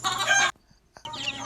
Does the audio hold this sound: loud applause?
no